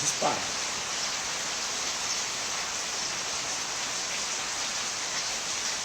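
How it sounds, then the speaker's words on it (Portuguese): Steady rain falls as a dense, even hiss that fills the whole stretch, with a brief soft knock at the very start and no voices. "E com essa chuva maravilhosa"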